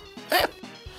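A person's voice imitates a dog with hiccups, giving a couple of quick barking yips with short gulping pauses between them, close and clear.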